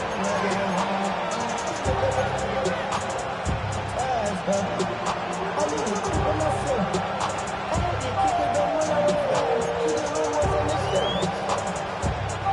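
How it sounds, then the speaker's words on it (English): Stadium crowd noise from a Madden 26 football video game, a steady roar of babble and cheering with thumping beats underneath, continuous throughout. "this crowd making it hard to hear"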